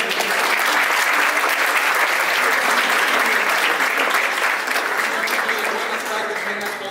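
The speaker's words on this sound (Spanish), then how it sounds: "Vamos a darle un aplauso." An audience at a Tecnológico de Monterrey conference applauds continuously for about seven seconds, a dense, even wash of clapping from many hands that fades slightly toward the end.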